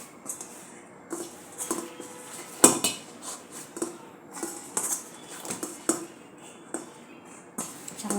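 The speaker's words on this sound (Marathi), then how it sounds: "चांगले सॉफ्ट होईपर्यंत मळायचे आहे." Dough for pani puri being kneaded by hand in a metal vessel, with repeated knocks, clinks and soft slaps at an uneven rhythm, close and moderately loud, no talking.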